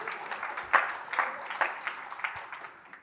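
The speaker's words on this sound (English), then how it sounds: "And clap for that one, damn it." Audience clapping at a sustainability conference talk, fairly thin and uneven with several distinct sharper claps early on before it tapers off and fades toward the end.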